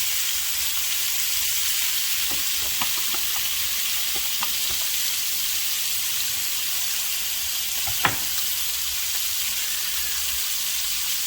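Pot roast sears in a hot pan, pressed flat for even contact, giving a steady close sizzle and hiss throughout with a few scattered pops and one sharp knock partway through, no talking.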